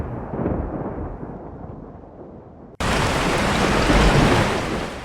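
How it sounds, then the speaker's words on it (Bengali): Thunderstorm sound effect: a rolling rumble of thunder fades, then a sudden burst of loud, heavy rain pours in steadily and stays close and dense to the end. "বাইরে মেঘের গর্জন এবং বিদ্যুৎ চমকিয়ে হঠাৎ মুষলধারে বৃষ্টি নামল"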